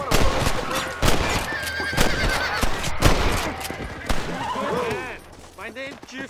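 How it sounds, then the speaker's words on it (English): Gunshots ring out in the Western video game Red Dead Redemption: several sharp, loud cracks about a second apart, mixed with horse whinnies and clopping hooves. "Oh, you hear those gunshots?"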